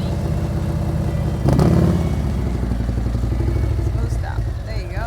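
Motorcycle engine running steadily at very low speed during a slow-speed riding practice exercise with the rear brake applied, a continuous close rumble with a brief louder surge near the start.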